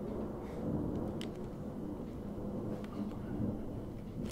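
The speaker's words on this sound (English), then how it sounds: "There goes lightning." Low, rolling thunder from a storm outside rumbles continuously, distant and muffled, with faint rain-like hiss on top.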